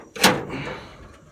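The door of a 1936 Chevy rat rod truck latching shut, a single sharp metallic clunk followed by a short rattling decay, close and fairly loud.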